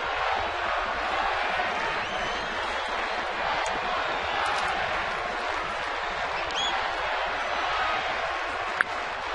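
Steady crowd roar fills a baseball stadium during a 2010 Marlins at Giants game after a pinch-hit two-run homer in the 7th inning, a continuous broad wash of cheering with no pauses.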